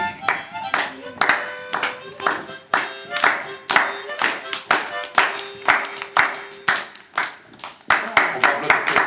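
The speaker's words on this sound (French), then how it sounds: "On va applaudir Stéphane, hein." A school class applauding in a room, many hands clapping close by in a lively, uneven patter that keeps going, with a few children's voices mixed in.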